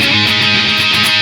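A heavily distorted electric guitar played through a tube screamer into a solid-state amp with the boost engaged rings out in a brief, dense, sustained burst with bright, harsh upper harmonics.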